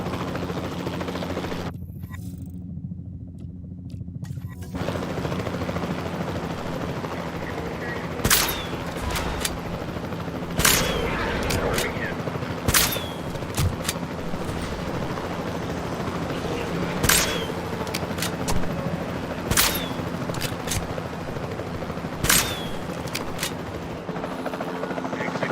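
Tranquilizer guns fire at dinosaurs in the video game Jurassic World Evolution 2: a series of sharp, spaced pops over a steady helicopter-like rotor drone.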